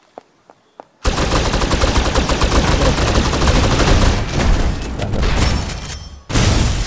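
Loud, rapid automatic gunfire in the video game Snowbreak: Containment Zone, following a few isolated shots; the sustained burst runs for several seconds, briefly stops, then resumes.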